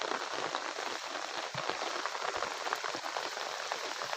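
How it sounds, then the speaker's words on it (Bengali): Steady rain drums on a small forest shelter stocked with fishing gear in the Sundarbans, a dense continuous patter with scattered closer drops, no voices. "জানি না বৃষ্টি কখন কমবে কখন বাড়বে কিন্তু সত্যি খুব ভালো লাগছে"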